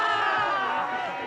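A crowd at a backcountry freestyle snowboard contest in Revelstoke cheers and whoops loudly and steadily, a dense wash of many voices, with no gaps.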